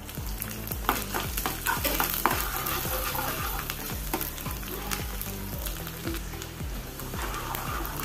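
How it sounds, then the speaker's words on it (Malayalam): Small chopped coconut pieces sizzle and fry in ghee in a pan, a steady close crackle with regular rhythmic scraping strokes as they are stirred, no voices. "1/2 teaspoon നെയ്യ് ഇട്ട് കൊടുത്ത് ഇനി ചെറുതായി അരിഞ്ഞ തേങ്ങയും കൂടി ചേർത്ത് കൊടുക്കുക."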